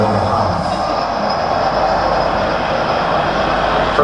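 Train sound effect in a laser show, heard as a loud, continuous rumbling and rattling of rolling wagons that stays steady throughout.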